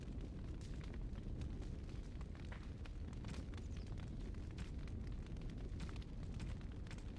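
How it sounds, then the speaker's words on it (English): Fire crackles steadily in Dragon Age: Origins, a continuous dense roar with scattered snapping pops throughout. It holds at a constant level with no voices over it. "My right ear is really enjoying this fire sound effect."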